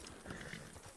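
Horse hooves clip-clop in a ranch roleplay video game, a quiet, brief run of a few hoof falls with no speech.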